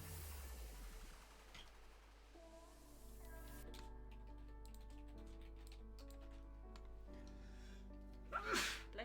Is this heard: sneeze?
yes